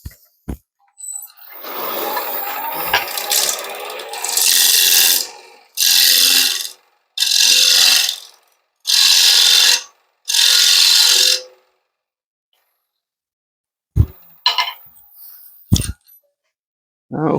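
A wood lathe turns a bowl blank cut from scrap dimensional lumber while a tool flattens the face. A long rough cut is followed by four short even bursts of scraping, then a silence and a few knocks.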